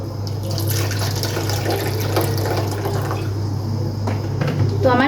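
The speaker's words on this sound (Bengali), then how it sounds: "তো আমার ফ্লাক্সে জল গরম করা ছিল, সেটাই আমি দিয়ে দিচ্ছি" Hot water from a flask poured over rice for a Bengali-style pork biryani, a continuous splashing trickle of liquid lasting several seconds over a low steady hum.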